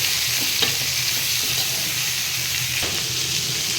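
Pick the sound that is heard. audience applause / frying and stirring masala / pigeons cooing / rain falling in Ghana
frying and stirring masala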